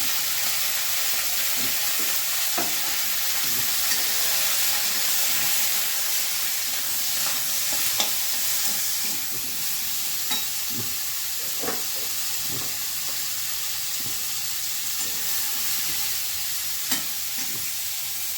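Mixed vegetables frying in a pan, a continuous steady sizzle and hiss with occasional soft stirring clicks, close and even throughout.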